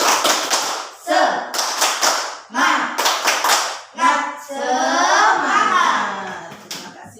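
Indonesian schoolchildren in a classroom perform a rhythmic tepuk semangat clapping cheer, crisp bursts of hand claps in patterned groups alternating with shouted chanted words, close and lively.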